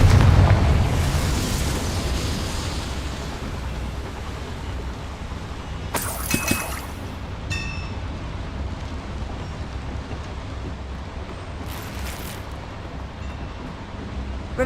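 A Confringo fire spell explodes in the Hogwarts Legacy video game: a steady rumbling roar runs throughout, broken by a couple of sharper bursts and crackles partway through.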